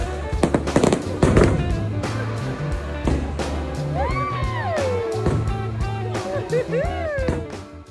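Fireworks show at Disneyland set off close by, with dense loud bangs and crackling bursts early on, then whistling rising shells and further pops continuing throughout.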